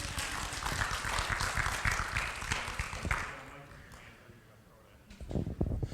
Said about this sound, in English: You can clap. Praise God.